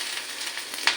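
Chopped garlic and ginger with ground pepper frying in a pan for chili chicken, a brief close hiss of sizzling oil with a small spatter near the end.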